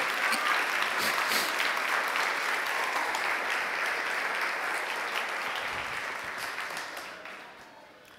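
A church congregation applauds during a Spanish-language sermon, dense sustained clapping from many hands that fills the room and gradually fades out toward the end.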